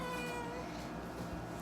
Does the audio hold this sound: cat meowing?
yes